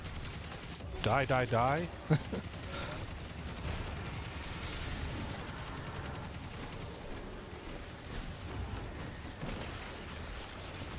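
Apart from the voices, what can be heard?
machine gun fire in video game Destiny 2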